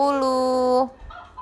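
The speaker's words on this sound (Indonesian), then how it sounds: "Dia bawa ayam" A chicken lets out a single drawn-out, tonal call lasting under a second, loud and close, then quiet room noise follows.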